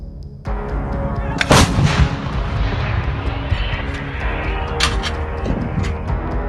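A 155mm FH-70 towed howitzer fired by Ukrainian forces lets out heavy booming blasts, with one loud close report followed by rolling, rumbling echoes and later fainter thuds.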